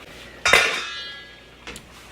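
A spoon stirs rice in a metal cooking pot, giving a sharp clank followed by a ringing metallic tail, then a second softer knock against the side of the pot.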